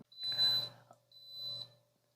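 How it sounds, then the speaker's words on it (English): An Instant Pot Duo Evo Plus beeps as it reaches 130 degrees while sous vide cooking a ribeye steak, two clear electronic tones separated by a short pause, moderately loud in an otherwise quiet kitchen. "that beeped as this went to 130"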